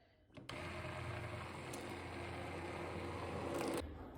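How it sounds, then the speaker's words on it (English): An immersion blender whirs steadily through cooked fruit in a home kitchen, a continuous close buzzing hum that starts abruptly and runs for a few seconds before stopping. "So I'm actually gonna use my immersion blender."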